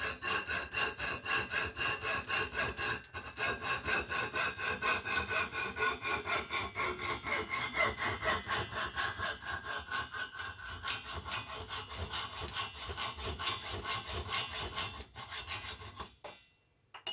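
Steady back-and-forth sawing cuts through a piece of stock being shortened for an active loop antenna, close and continuous with an even rhythm for about sixteen seconds before stopping abruptly.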